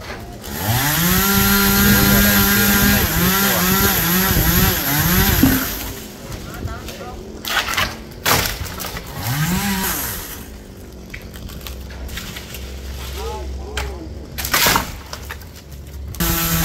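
Chainsaw cutting a huge dipterocarp tree near Tri Tôn market in An Giang, a loud close engine that revs and bogs in long strokes, then idles and bursts intermittently, with voices talking throughout.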